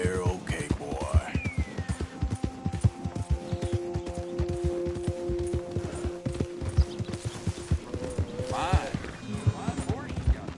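Repeated hoof clip-clops of a horse walking at a steady pace in Red Dead Redemption 2, with people talking over the hooves and a brief whinny near the end.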